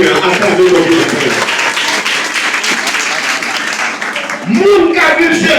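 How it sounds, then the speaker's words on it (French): Church congregation applauding and clapping in praise of God, a loud continuous wash of hands filling the room from start to finish, with singing or voices blended in. "Acclamez bon Dieu matin, acclamez bon Dieu matin"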